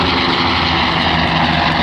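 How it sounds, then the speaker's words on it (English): A-1 Skyraider propeller aircraft taking off at an air show, heard as a loud, dense, rumbling piston-engine roar that is steady and close throughout the brief moment. "There are two Sandys taking off."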